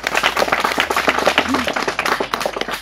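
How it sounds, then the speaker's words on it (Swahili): A group of children claps together at an indoor gathering, brisk uneven applause close and loud for a few seconds. "Jipigieni makofi watoto wangu"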